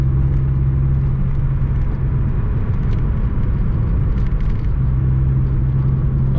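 A Chevy Beretta GTZ coupe with upgraded suspension drives through a curve, heard from inside as a steady low engine hum and road rumble, continuous and even throughout.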